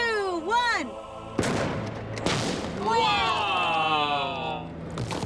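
A black-powder ice cannon fires in an outdoor test, a sharp loud blast that comes after a voice and is followed by a second crack. Excited voices exclaim and shout afterward.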